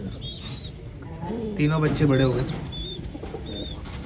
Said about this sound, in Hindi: चलो कबूतर चेक करके आते हैं कि कितने कबूतरों ने बच्चे दिए